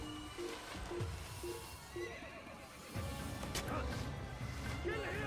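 A horse in a video game neighs several times in short repeated whinnies, with faint hoof clatter beneath; a voice talks over parts of it.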